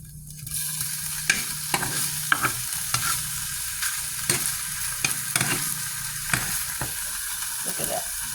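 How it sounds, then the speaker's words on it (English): An egg frying in a pan gives a continuous loud sizzle, punctuated by repeated scraping and tapping of a utensil against the pan. "as we get this egg cooked well"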